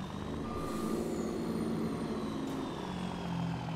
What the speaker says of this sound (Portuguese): Beleza, o caminhão andou sozinho.